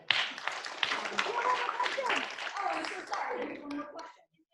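Applause from an audience at a social work school social justice event, a sustained wash of clapping that fades out near the end, with voices mixed in.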